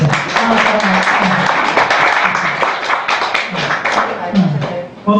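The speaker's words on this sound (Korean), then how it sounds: "박수 한번 주세요." An audience at a brain and sleep lecture gathering claps in a dense, steady burst of applause that fades slightly toward the end.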